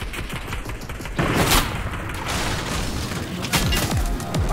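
Video game gunfire bursts out in rapid fusillades, with sharp shots clustered over a continuous noisy battle background, fairly close and loud.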